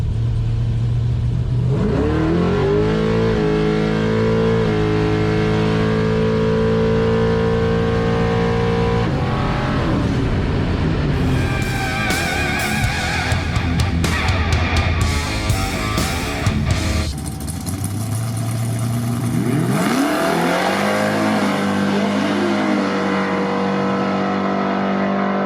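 A nitrous drag car launches and revs hard down a quarter-mile pass, engine climbing through several gear changes, then the throttle drops off and it coasts, loud and close throughout.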